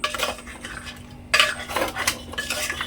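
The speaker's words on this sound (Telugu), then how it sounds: "ఇప్పుడైతే ఒకసారి గంట తీసుకొని మొత్తం మిక్స్ చేసుకుందాం" Beef paya being mixed in a metal pot with a ladle, giving repeated scraping and clinking strokes against the pot, close and fairly loud with short pauses between stirs.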